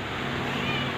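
A male Persian cat gives a single drawn-out, close meow lasting about a second, loud and alone.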